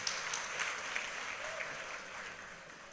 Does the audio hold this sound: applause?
yes